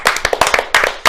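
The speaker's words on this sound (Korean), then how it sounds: "진짜 오늘은 자유한국당 여상규 법사위원장 박수." An audience claps for a committee chairman at a political rally, brisk uneven hand claps in a quick burst close to the microphone, with no talk over them.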